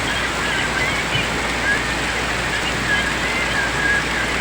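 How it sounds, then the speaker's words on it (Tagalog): Heavy rain pours down hard enough to flood the area, a dense, steady roar of water close by that never lets up. "Ito yung pinakakalaban namin dito guys, ulan."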